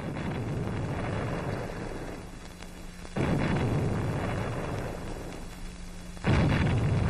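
Bombing in an air raid from a war film: rumbling blasts burst in abruptly twice, each a loud, broad boom that dies into a low roar, over a constant windy background.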